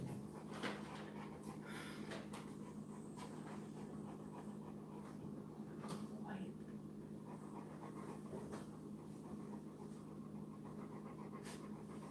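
A Cane Corso in labor whimpers and pants with steady, close breathing and occasional soft whines over a constant low hum, with no talk.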